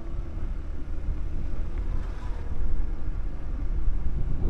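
Steady low engine drone from motorbikes riding along a village road, a continuous rumble mixed with wind buffeting, fairly close and without pauses or voices.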